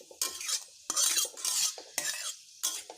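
Whole spices tempering in hot oil in a pan for Mithila-style potato biriya, with repeated bursts of sizzling and crackling broken up by scraping stirs at close range, and no voices.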